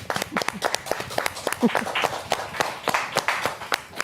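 A small studio audience applauds guests on a talk show, scattered, uneven hand claps, fairly quiet and close, lasting a few seconds without talk over them.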